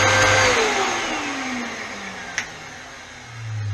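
A repaired Miele C3 vacuum cleaner motor spins up and runs steadily, its whine falling in pitch as it settles, with a brief click partway through and the hum swelling again at the end.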